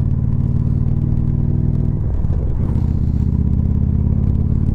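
A big American car engine roars past, a deep, loud, steady rumble with rich low harmonics that shifts briefly midway as it passes, with no talking.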